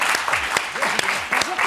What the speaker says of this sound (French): On retrouvera également Thomas Mekisch qu'on peut applaudir.